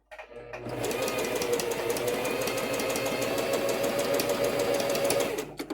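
A sewing machine running a zigzag stitch, with a rapid, even mechanical whir and clatter that starts abruptly and runs steadily for about five seconds, heard close up.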